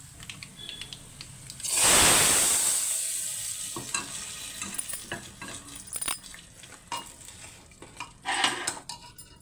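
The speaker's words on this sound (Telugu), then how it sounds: "ఇప్పుడు దీన్ని సాంబార్లోకి తిరగమూత వేసుకుందాం" Hot tempering with asafoetida is poured into radish sambar, bursting into a loud sizzle that fades over several seconds, followed by intermittent scraping and clinking of a spoon stirring in the pot.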